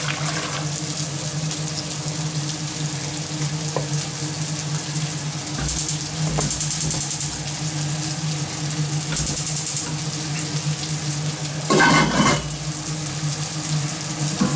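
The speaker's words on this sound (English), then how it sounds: "Chorizo's cooking nicely there, and I've got my chicken stock. Just get that poured in." Chicken stock pours into a pan of frying chorizo, giving a steady liquid sizzle and bubbling throughout, with a few soft clinks and a louder splashy burst near the end.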